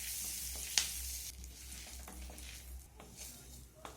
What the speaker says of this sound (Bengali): কারি পাতাটাকে আমি একটু ভেজে নেব।